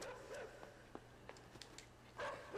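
Dog in the video game Inside barking and chasing: a few short, faint yips and barks scattered over a low rumbling game soundscape, with a louder burst near the end.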